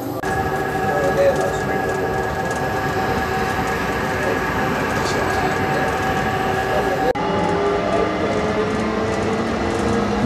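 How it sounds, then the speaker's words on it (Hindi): An airport metro train running toward Terminal 3 gives a steady, loud rumble with a sustained tonal whine and rail noise from inside the carriage, continuous throughout with a brief shift partway through. "दोस्तों मेट्रो ट्रेन चलने लगी है, अब ये हमें सिर्फ 2 मिनट में पहुँचा देगी टर्मिनल 3 पर।"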